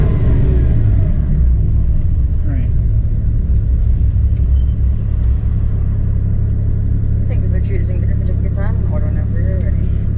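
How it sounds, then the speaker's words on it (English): A Porsche GT4 engine idles with a loud, steady low rumble beside a Dairy Queen, with no clear rev peaks, while people talk over it. "Courtesy Rev."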